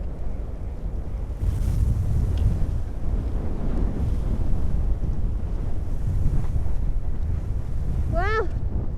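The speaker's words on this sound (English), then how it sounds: "the winds are coming from the west, moderate with high gusts" Strong, steady west wind roars and buffets the microphone on a Teton mountain, with a gust surging in about a second and a half in; a brief high chirp near the end.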